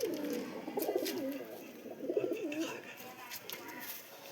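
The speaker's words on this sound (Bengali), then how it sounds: "আর একটা পায়রা দেখায়, কালাঙ্কা চোখের পায়রা।" Pigeons coo in low, rolling bursts close by, with repeated calls over a quiet background and faint voices now and then.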